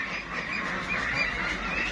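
Meat ducks quack and honk together as a dense, continuous flock chorus that stays fairly loud throughout.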